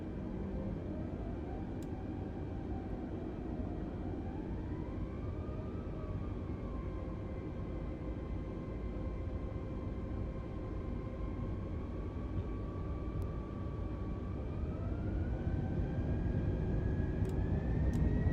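Airbus A320neo engines spool up into a steady, loud roar during the takeoff roll in Microsoft Flight Simulator 2020, with tones rising slowly in pitch as the jet accelerates down runway 07, continuous and unbroken throughout.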